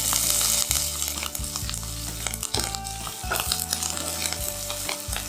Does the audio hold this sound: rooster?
no